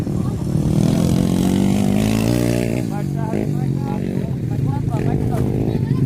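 A motorcycle engine revs loudly and steadily, its pitch rising and wavering, with voices talking over it.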